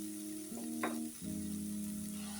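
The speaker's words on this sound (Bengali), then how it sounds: "আমি এটাকে একদম শুকনো শুকনো করে কষিয়ে নিই" Jackfruit seed paste fries in a pan with thin prawns and spices, giving a quiet, steady sizzle with a brief stirring scrape partway through.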